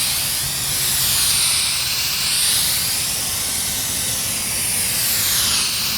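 A spray gun lays down Cardinal base coat paint on the driver's side wheel arch of a 1998 Ford Ranger, a continuous loud airy hiss swelling and easing gently over several seconds.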